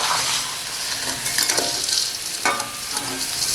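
Edible gum puffing as it fries in ghee, a steady close sizzle and crackle with a few scraping stirs of a utensil in the pan, with no talk.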